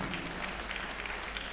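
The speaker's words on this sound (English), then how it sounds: "A round of applause for him." Audience applause at a Nigerian Bar Association Law Week gathering in Asaba, a brief, steady roar of many hands clapping, dense and somewhat distant-sounding.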